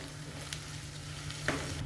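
Soft steady sizzle of onion frying over high flame in a pan until golden, faint and continuous, with a couple of light clinks of stirring.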